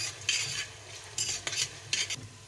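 Onions and peppers frying in a pan, a soft sizzle under a utensil scraping and stirring in several quick strokes, close and fairly quiet.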